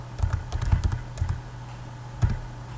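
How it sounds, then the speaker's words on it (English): Keys clatter on a computer keyboard as a command is typed into a Cisco router's command line: a quick run of close, crisp taps, a pause, then one more keystroke. "So I'm just going to type enable"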